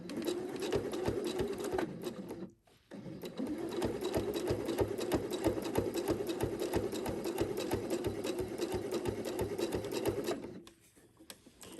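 A sewing machine stitches through thick quilt fabric in a steady, fast mechanical whir with even needle pulses. It stops briefly, restarts, and runs on before winding down, close and continuous.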